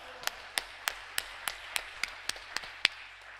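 A church congregation at a prayer retreat claps in slow unison: about eleven crisp, evenly spaced claps over a quiet background, the last slightly louder.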